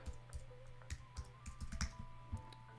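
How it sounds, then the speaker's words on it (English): Typing on a computer keyboard, a steady patter of soft key presses close by, quiet and with no talking. "Let's just type in painkiller."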